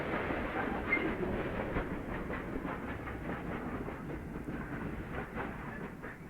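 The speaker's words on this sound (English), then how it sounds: "This train sound, did you notice how it panned from one side of the screen to the other?" A train passes in an indie video game, its steady rumbling clatter sweeping from one side to the other, moderately loud with no other sounds.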